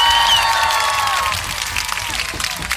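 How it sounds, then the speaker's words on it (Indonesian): A short burst of crowd applause with some cheering rings out loudly over a high tonal sound that fades away. "kita beri tepuk tangan dulu dong"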